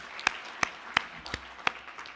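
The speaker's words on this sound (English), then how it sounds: "give yourselves a round of applause this morning" A few scattered, separate handclaps from a morning conference audience on transportation in Los Angeles, about five sharp claps spread over two seconds against a quiet room.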